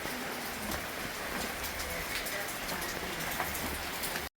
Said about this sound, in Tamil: மழை பெஞ்சிக்கிட்டு இருக்கனால போக முடியல